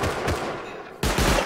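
Automated turret gunfire in the survival game Rust rattles in fast, dense bursts, loud and close, with a brief lull before a heavier burst resumes.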